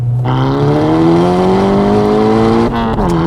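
A tuned Cupra hatchback with a loud engine climbs steadily at full throttle, its note rising close up for nearly three seconds, then briefly drops at a gear change before pulling again.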